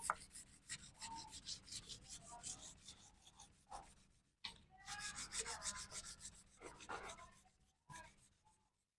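Coarse sandpaper rubs rust off a metal surface in repeated rhythmic rasping strokes, close and fairly quiet, with a few short pauses between bursts.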